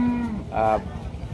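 A large cow gives a short, low moo close by, with rumbling murmur and shuffling of the busy Rajshahi City cattle market around it.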